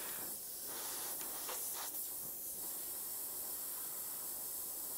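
An airbrush sprays paint through fire-shaped templates while painting a Tasmanian devil with a real-fire design. It makes a steady, soft, airy hiss with a few brief stronger bursts, and no one speaks.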